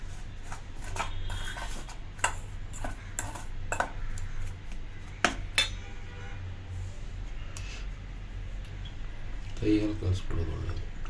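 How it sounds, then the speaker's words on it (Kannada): A spoon mixes gram flour with a little oil for Mysore pak, tapping and scraping against a vessel in scattered close clicks, with a voice talking at times. "ಕಡಲೆ ಹಿಟ್ಟು ಸ್ಪೂನಲ್ಲಿ ಕಲಿಸೋದೇ ಬೆಸ್ಟು"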